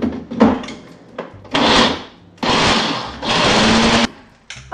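A food processor purees chickpeas for blondies in several loud, close whirring bursts, each lasting about a second, separated by short pauses and faint clatter, with no talking.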